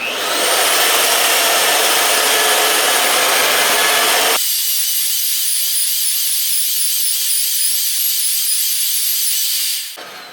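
A loud, harsh grinding whine of an Evolution magnetic drill cutting into metal runs steadily, then shifts to a thinner, higher tone before cutting off near the end.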